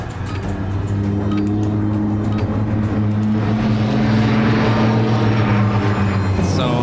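In Call of Duty Modern Warfare, a large helicopter passes overhead with a loud, steady rotor roar and drone that swells midway and holds through to the end.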